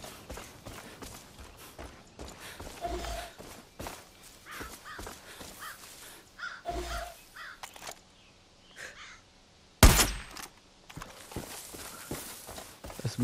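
Small birds calling in the Far Cry 5 game world, their caws scattered and fairly faint over ambient wilderness noise and footstep-like thuds, with one sharp loud burst near the end.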